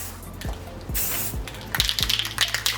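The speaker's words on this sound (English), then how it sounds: "Little test spray." A short hiss of a white spray paint aerosol can, a brief test burst that stops, followed by light clicking and rattling handling noises.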